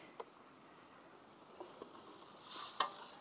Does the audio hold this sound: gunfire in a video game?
no